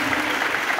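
Audience applause at a farewell ceremony for a retiring teacher, a brief dense burst of clapping from a crowd, close and loud.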